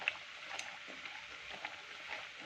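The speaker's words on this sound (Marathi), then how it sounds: "आता याला दोन्ही साईडनं आपण व्यवस्थित फ्राय करून घेऊया" Vegetable vadas shallow-frying in oil in a pan give off a faint, steady sizzle with soft crackling pops, heard alone and close.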